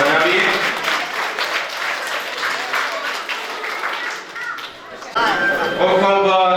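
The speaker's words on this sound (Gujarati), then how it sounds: "ખૂબ ખૂબ તાળીઓથી આપણે વધાવીએ." Applause from an audience at a hall inauguration at a primary school in Rikadiya. Steady, dense clapping fills most of the clip, then a voice starts speaking over the tail end.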